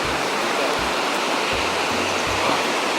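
Ouzoud waterfall in Morocco roars as a steady, loud broadband rush of falling water that fills the whole scene, with faint low rumbles beneath and no talking.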